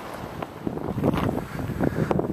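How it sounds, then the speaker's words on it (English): Gusty coastal wind along the Big Sur shoreline buffets the microphone, surging and rumbling in steady broadband waves with louder blasts toward the middle and end, no voices present. "The breeze is picking up, so I'm standing by this bush to help block the wind."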